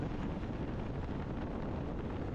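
Steady, dense wind roar on a Yamaha Ténéré 700 Rally fitted with an Isotta windscreen, a continuous broadband rush at riding speed with no buffeting bursts, loud and unbroken throughout.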